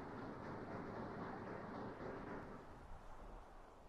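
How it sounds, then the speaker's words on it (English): Passenger train rolling along in the video game Sweet Transit, a faint, low, continuous rumble of wheels and carriages that gradually eases off and thins out. "This train could make another stop."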